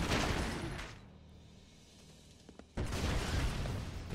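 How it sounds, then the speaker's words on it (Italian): Mine explosions in the video game Broforce Forever, a loud crackling burst that fades to a quiet lull, then a sharp pop and another dense roaring blast. "Ma scusa, le mine dovrebbero esplodere dopo."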